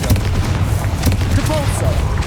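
Confringo blasting spell cast in Hogwarts Legacy, a heavy booming blast over a rumbling low drone, with a sharp burst near the middle and continuous game ambience behind it.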